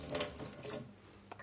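Water poured in a continuous rushing stream, like a running tap, a quiet close splash lasting a moment and then tapering off.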